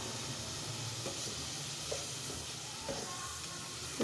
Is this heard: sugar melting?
yes